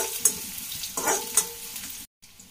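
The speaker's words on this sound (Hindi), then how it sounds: "अब हम डालेंगे इसमें प्याज। प्याज को भी हमें हल्के से सेकना है।" Chopped onion lightly sautéing in a pan for karmatta bhaji, a steady close sizzle with a few sharp clinks of a stirring utensil, briefly cutting out near the end.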